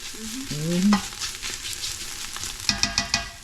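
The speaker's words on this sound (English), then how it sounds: "Hear that sizzle? It ain't a boil sizzle. It's a frying sizzle. Sauteing sizzle." Sausage sizzles and crackles while sautéing in a pan, with stirring and scraping sounds and a brief voice-like tone near the start.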